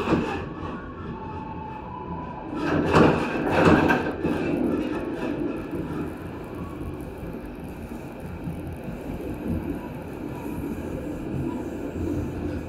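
Sawunggalih train running past the Tawang Jaya train and a freight train at Jatibarang, Indramayu, with steady rumbling rail noise and a louder passing rush around the third and fourth seconds.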